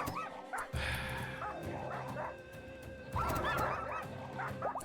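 Huskies in the RimWorld video game bark and yip repeatedly in quick bursts, with a few whimpers, over steady game noise, with a brief break early on and a louder cluster of barks toward the end.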